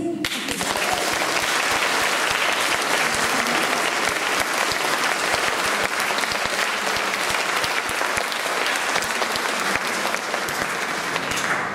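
Warm, sustained applause from a concert audience after an organ and viola da gamba performance, a thick, even wash of many hands clapping from start to finish without a break.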